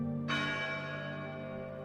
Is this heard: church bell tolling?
yes